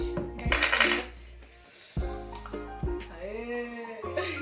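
A spoon stirs golgappa water in a bowl, producing several close metallic clinks and scrapes against the dish at irregular intervals.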